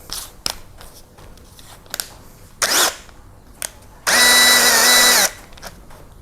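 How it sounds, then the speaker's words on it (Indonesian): A Doliz BD637 cordless brushless drill, 20 V with a 2 Ah battery, runs in a steady high whine for about a second after a brief spin-up burst, amid close clicks and handling noises from the chuck and body. "Dolis BD637 cordless brushless drill"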